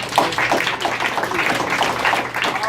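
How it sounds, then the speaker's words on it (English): Audience applause after a speaker at an AVID talk, a dense steady wash of many hands clapping close and fairly loud throughout, with no voices over it. "Give yourselves a round of applause."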